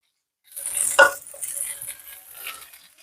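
A spoon scrapes and clinks in a hot pan as milk is stirred in for beef stroganoff, one sharp metallic knock followed by softer swishing stirs and a light sizzle, close and alone.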